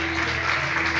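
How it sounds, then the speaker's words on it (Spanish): A church congregation claps during a sermon in a brief burst of dense applause, with a steady low hum from the hall's sound system underneath. "Dale un aplauso al Rey."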